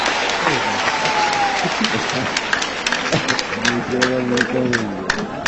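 An audience applauds at a Punjabi-Saraiki poetry recital, with steady clapping running under voices and cheers throughout, and a man calling out partway through.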